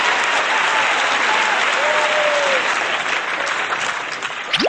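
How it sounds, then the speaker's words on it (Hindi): An audience greets a performer at a school stage event with loud, sustained applause, dense clapping that holds steady for several seconds before easing slightly. "तो जोरदार तालियों के साथ स्वागत कीजिए"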